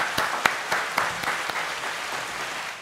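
A short burst of clapping from a small group, with sharp individual claps standing out over a lively crackle of hands, close and moderately loud.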